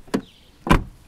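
A door on a Volvo S40 sedan shuts twice. A light click is followed by a fuller, damped thunk, both close and clear, with no voices over them.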